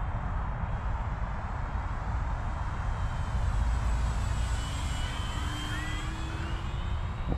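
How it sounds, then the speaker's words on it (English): An FMS P-47 Bonnie 1.5 m RC warbird makes a slow flyby, its electric motor and propeller a steady drone that rises in pitch as it passes overhead, loud and continuous with no talking. "I'm gonna come in for a slow flyby."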